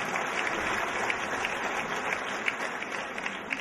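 Audience at a Miss Orléanais 2014 beauty pageant applauding a jury member, a steady, moderately distant wash of clapping with a few sharper claps standing out.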